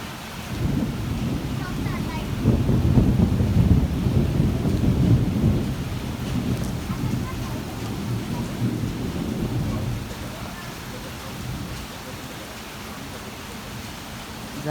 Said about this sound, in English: Guys, it's heavily raining.